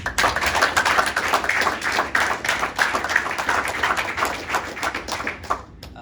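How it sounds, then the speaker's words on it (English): A graduating class claps for itself at a graduation ceremony, a steady stream of many hands clapping close by, sustained for several seconds before tapering off. "Give yourself a round of applause."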